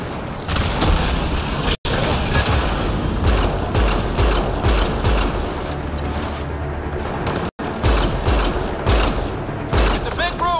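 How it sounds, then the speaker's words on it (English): Intense gunfight in a gun battery in the video game Mass Effect: Andromeda, with dense, near-continuous rapid gunfire and heavy booms, loud and close, with shouted voices mixed in. "It's a gunfight in the gun battery then!"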